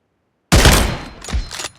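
Video game sniper rifle fire: after a short silence, a loud, close gunshot bursts out and decays, followed by a couple of further sharp reports.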